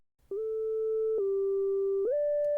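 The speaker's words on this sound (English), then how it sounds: "A cool trick with a sine wave, normally without the exciter," A plain sine wave synth lead without any exciter plays a simple held melody of three smooth, pure tones, each note sustained about a second with soft onsets, alone and moderately loud.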